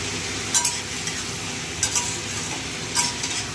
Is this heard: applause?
no